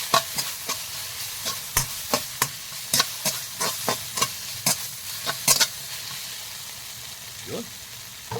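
Spicy ginisang pechay, heavily peppered, is stir-fried in a pan, with a steady sizzle under a quick series of sharp spatula scrapes and clacks that thin out toward the end.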